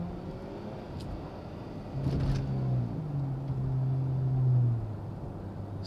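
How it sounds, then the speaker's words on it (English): A 2019 Chrysler 300S engine rises in a short, moderate rev from a quick tap on the accelerator, a low steady drone that swells and then settles, with no talking. "So that was just a tap on the accelerator."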